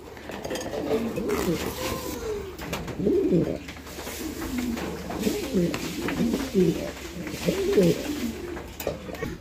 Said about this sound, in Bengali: এটাও মুন্ডিয়ান কবুতরের একটা জোড়া, আপনারা দেখতে পাচ্ছেন